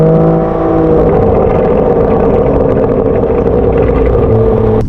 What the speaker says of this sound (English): the amazing new sort of rumble that this car gives when you're coming down the revs